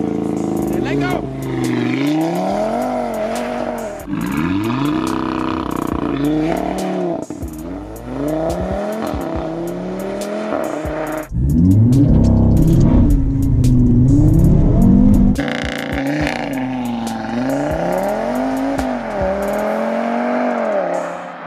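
An Audi RS3 engine revs hard for a launch-control start, rising and falling in loud repeated sweeps with a strong surge near the middle. It sounds close and continuous, and a voice may be present alongside.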